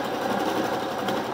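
A sewing machine runs continuously stitching along a blouse armhole, a fast, steady mechanical whirring close up for about a second with no talk.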